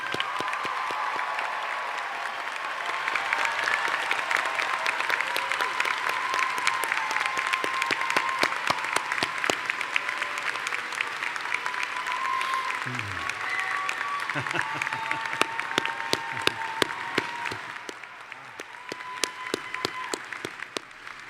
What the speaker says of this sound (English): Please help me with a thunderous applause for the Skidmore faculty.